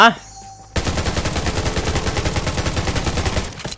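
Rapid automatic gunfire from the survival shooter game Undawn, a loud close burst of fast evenly spaced shots lasting about three seconds after a brief quiet moment, then stopping abruptly.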